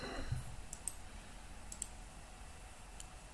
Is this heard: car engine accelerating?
no